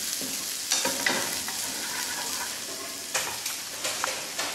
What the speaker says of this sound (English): I'm gonna add 4 garlic cloves to this, which I minced.